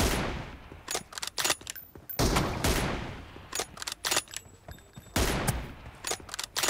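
M24 sniper rifle fire rings out in a 1v1 team deathmatch video game, with sharp, loud shots arriving in uneven clusters and short gaps between them.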